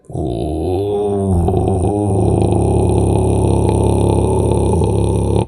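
A beatboxer imitates a buzzing mechanical vibration, a steady, close, droning hum that wavers in pitch and continues for several seconds.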